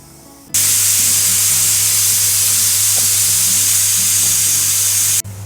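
Onion slices roasting in a pan for a quick Maharashtrian vegetable dish give a loud, steady hiss and sizzle that starts abruptly and runs evenly for about five seconds before cutting off, with a low hum underneath.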